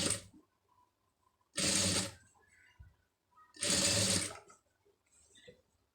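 A sewing machine runs two quick bursts of stitching along a blouse neck border trimmed with a saree edge, each whirring run lasting under a second with quiet pauses and faint handling between.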